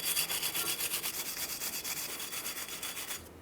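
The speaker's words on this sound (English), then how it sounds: "Let's use a wire brush." Wire brush scrubbing the wheel hub mating surface on a 2012-2015 Honda Civic, quick rhythmic back-and-forth scratching strokes, close and steady, with no talking.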